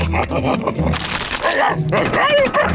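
A cartoon dog barks and whimpers in short, uneven bursts that mix with speech-like voices and a busy, lively soundtrack.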